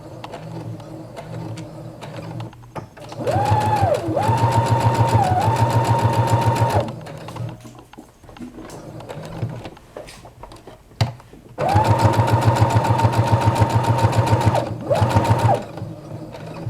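A sewing machine stitches pieces of fabric in two long, loud, fast-humming runs, separated by a quiet pause with a few handling clicks.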